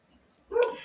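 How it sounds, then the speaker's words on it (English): A single short bark from an indoor dog, sudden and moderately loud after near silence, with no talking over it. "I don't know what he's barking at."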